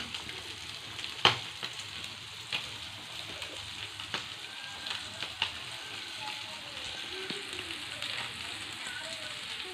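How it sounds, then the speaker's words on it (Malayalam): Curry leaves sizzling in hot oil alongside fried fish, a continuous close crackling fry with scattered sharp pops and ticks across the whole stretch. "നമുക്ക് ഇതിലേക്ക് കുറച്ച് കറിവേപ്പിലയും കൂടി ആഡ് ചെയ്ത് കൊടുക്കാം"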